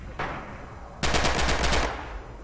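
Rapid automatic gunfire in a shooter video game match, with a brief shot followed by a sustained machine-gun burst of about a dozen quick rounds, fairly loud over a low background hum.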